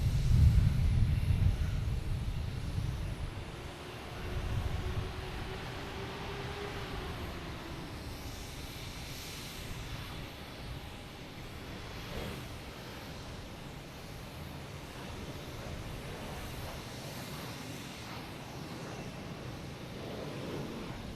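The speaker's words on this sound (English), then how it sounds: "This is Delta coming down the runway." A Delta jet airliner rolls down the runway at Boston Logan Airport, its engine roar broad and steady, loudest at the start and then holding a sustained distant rumble and whine throughout.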